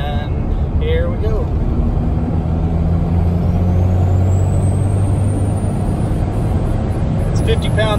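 Cummins diesel pickup pulling a trailer at full throttle in sixth-gear overdrive from about 50 mph, a loud continuous engine drone and rumble with turbo whistle, heard from inside the cab.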